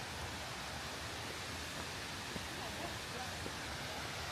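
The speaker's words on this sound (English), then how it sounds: "it's a big waterfall right here" A big waterfall on Vickery Creek along a hiking trail in Roswell, Georgia, heard as a steady, faint, broadband rushing hiss of falling water, unbroken throughout.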